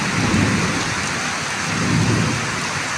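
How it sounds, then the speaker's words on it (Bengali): Heavy rain pours steadily and loudly while deep rumbles of thunder roll underneath in two swelling waves, close and continuous with no voices. "ভাইরা দেখেন কি বৃষ্টি আর বৃষ্টি খাড়া ঝিলিক যেমন ডাক তেমন হইতেছে"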